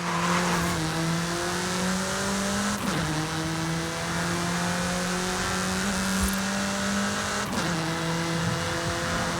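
Bull 05 track-focused Mexican supercar in Forza Horizon 5 screaming through the gears, a loud engine note that climbs steadily and drops sharply at each of several upshifts.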